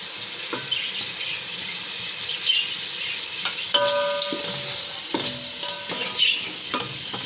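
Tomatoes and spices frying in a pot for aloo matar pulao, heard as a constant close sizzle with scraping stirs and a few clinks of utensil on metal, with no voices.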